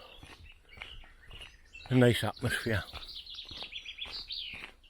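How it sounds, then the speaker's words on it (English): Small birds chirp and tweet in shady woodland trees along a walking path, with faint, scattered calls running under a man's nearby speech. "Lots of birds tweeting on"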